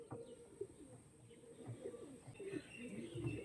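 Andhra Kalanka pigeons coo softly and repeatedly at close range, low throaty rolling calls recurring throughout a few quiet seconds.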